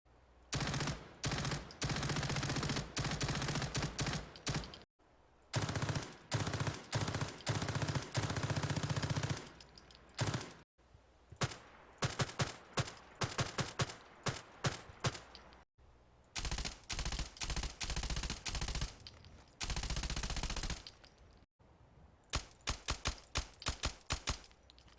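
SIG Sauer MPX mod firing in Fallout 4, with loud bursts of rapid automatic gunfire broken by short silent pauses and a few clusters of quicker single shots over about twenty-five seconds.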